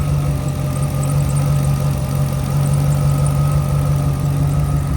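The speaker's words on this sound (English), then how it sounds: "Really great running little car." A 1933 Willys street rod kit car with a Factory Five front body sits idling, its engine running in a steady, loud low rumble with a constant hum and no pauses or revving.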